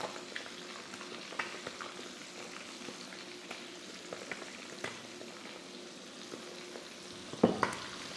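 Calamari squid rings frying in hot oil give a steady bubbling sizzle throughout, with scattered pops and spits and a louder sharp crackle burst near the end, and no voices over it.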